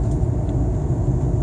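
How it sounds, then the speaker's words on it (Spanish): Cars on a riverside road make a steady low rumble as they approach, a brief continuous drone with no voices. "Ahí vienen los autos de allá."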